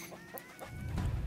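A chicken clucks softly in Medieval Dynasty, a few short, faint calls over quiet ambient game sound.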